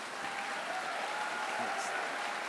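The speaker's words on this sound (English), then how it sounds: "Please applaud Madame Ellen Johnson Sirleaf." At a 2018 leadership ceremony, an audience applauds Ellen Johnson Sirleaf with a steady wash of clapping. Faint voices sit underneath it.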